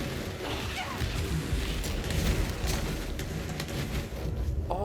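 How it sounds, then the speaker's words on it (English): Explosions in the Control video game form a dense, continuous rumbling roar with crashing bursts throughout, loud and busy, with a voice faintly audible beneath. "All these explosions on the screen."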